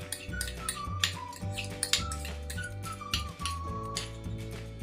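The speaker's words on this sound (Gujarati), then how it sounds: "દહીંને પણ મિક્સ કરી લઈશું" Spoon mixing curd with oil and milk for a cake batter in a bowl, quiet repeated scraping and clinking strokes over a faint steady tonal hum.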